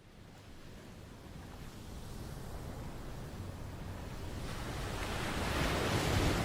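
Ocean surf rolls in as a steady broad wash of breaking waves with some wind, swelling louder toward the end, with no voices.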